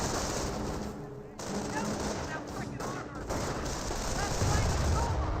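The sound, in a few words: rifle fire in the video game Company of Heroes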